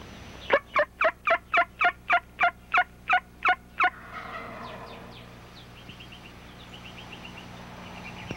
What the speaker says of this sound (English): He gobbled at that.